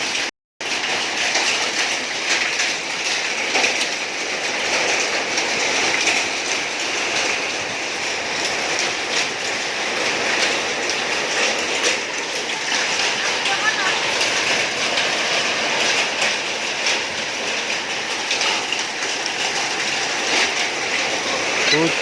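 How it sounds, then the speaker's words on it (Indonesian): Heavy hailstorm in Godean, Indonesia, with many small hailstones pelting down, a loud, unbroken roar of rapid impacts that barely changes over the whole stretch after a brief silent moment at the start. "Hujan es batu kecil-kecil banyak banget."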